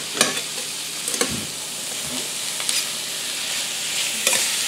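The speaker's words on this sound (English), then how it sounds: "So I'm going to dump our green beans in here." Green beans are stirred into sautéed peppers, onions and garlic in a hot pan: a loud, continuous sizzle with repeated scraping strokes of the spoon.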